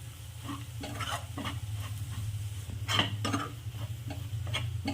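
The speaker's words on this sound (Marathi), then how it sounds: "हे एव्हरेस्टचा मसाला आहे छान मिक्स करून घ्यायचं" Everest masala stirred into a pan for dum aloo, a spoon scraping and clinking in repeated strokes over a soft continuous sizzle and a low steady hum, close up with no voices.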